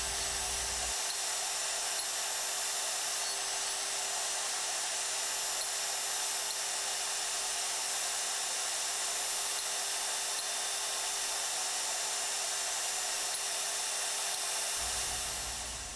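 A Hougen Edge 10950 sharpening machine grinds a cutter, giving a continuous, loud, high-pitched whine that holds steady throughout with no talking.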